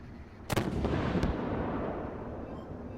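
A tank cannon fires in the video game Armored Warfare, one sharp booming shot followed by a second fainter crack over a steady engine rumble.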